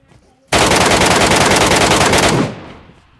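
A loud burst of rapid automatic gunfire rips out in PUBG Metro Royale, running about two seconds without a break before cutting off and fading into a short echo.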